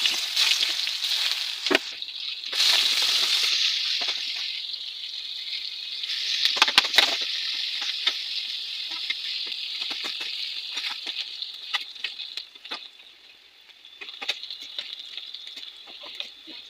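Oil is heated for a fish curry and spits with a steady bright sizzle, punctuated by crackling pops and a few clinks of utensils. The sound stays close and fairly loud, with no talk.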